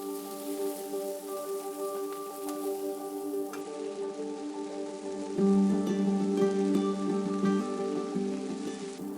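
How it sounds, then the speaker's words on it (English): Red onions and broccolini sautéing in chili oil in a pan, a steady crackling sizzle like light rain that grows a little louder partway through, with no talk. "Red onions and broccolini. Saute for 1 to 2 minutes."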